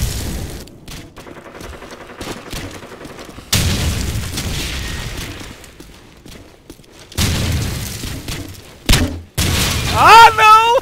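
Bursts of gunfire crack in clusters from Call of Duty 4: Modern Warfare, loud and sharp, with excited talking and shouting between the shots.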